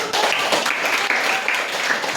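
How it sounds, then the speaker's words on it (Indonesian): Students applaud in a classroom, a short burst of dense clapping from a group that carries on steadily for a couple of seconds. "Boleh tepuk tangan dulu."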